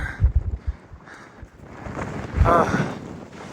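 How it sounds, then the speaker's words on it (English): Wind gusts on a climb up Aconcagua toward Camp 1 over loose scree, buffeting the microphone in uneven surges and rumbles, moderately loud and close. "Lots of wind and loose scree."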